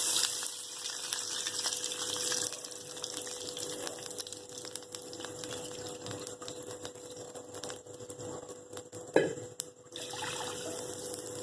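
Milk is poured into ghee in a pan while making bread halwa, a faint, steady liquid hiss and trickle with a brief clank near the end.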